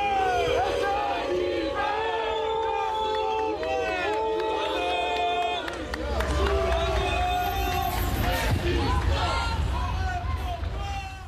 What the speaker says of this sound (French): sous les huées des grévistes.